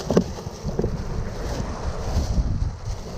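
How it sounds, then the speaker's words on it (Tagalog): Strong wind buffets the microphone in a steady rumbling roar while fishing with lures, with water sloshing faintly underneath throughout. "malakas yung hangin"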